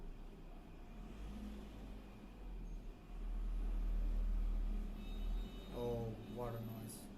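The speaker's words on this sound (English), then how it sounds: "There's a truck that's going by, that's passing by me." A truck passes by outside a room, its low engine rumble swelling and peaking midway, then receding while someone talks over the noise.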